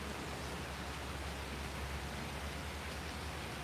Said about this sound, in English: I've got the creek behind me. I can hear the sounds and stuff.